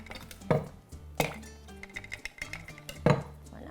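Ice cubes tumbling into a glass for a rum and citrus cocktail, three sharp clinking impacts at intervals with lighter rattles between them, close and clear.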